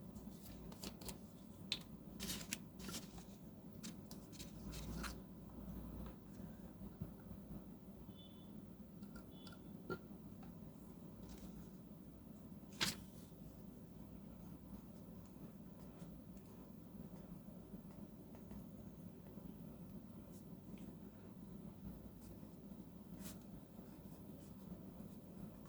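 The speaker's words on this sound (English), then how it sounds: "Here's some writing sample of this pen with our Penhouse Emerald Green ink." A medium-nib Oliver military eyedropper fountain pen scratching across paper with emerald green ink, a faint, steady scratchy writing texture dotted with a few sharp clicks, heard alone and close.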